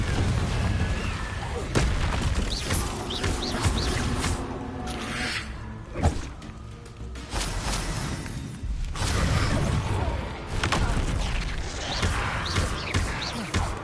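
Confringo blasting spell explosions in Hogwarts Legacy, loud dense booms and blasts rolling one into another amid clattering game effects, with brief quieter gaps between bursts and no talking.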